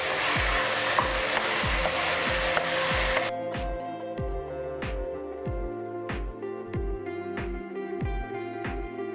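A spoon stirring garam masala and chili powder into chicken and spinach (palak) in a pan, heard as regular rhythmic scraping strokes, close up, over a sizzle that stops partway through while the stirring continues, with no talk.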